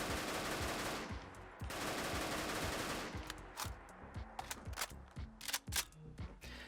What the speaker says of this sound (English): apologies if the volume is a little bit low on the firing sound. They just kind of come a bit quiet in this mod.